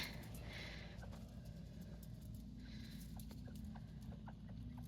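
Hens cluck and murmur softly at a distance over a low steady background hum, with scattered short calls.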